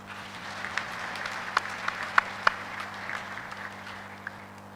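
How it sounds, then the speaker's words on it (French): A church congregation claps in steady, moderately loud applause, with a few sharper individual claps standing out above a low, continuous hum. "Est-ce que nous pouvons acclamer le Seigneur?"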